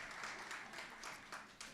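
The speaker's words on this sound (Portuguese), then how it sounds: "Aplauda a pessoa que está do seu lado." A seated audience at a church teaching session claps together in short, uneven bursts of many hands. The applause is fairly quiet and brief, with slight swells, and no voice is heard.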